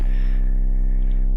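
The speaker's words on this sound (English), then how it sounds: "we have the bass, which is just a sub sine wave" Steady sub bass sine wave from a beat track, a deep sustained electronic tone droning evenly and loudly from start to finish with nothing else over it.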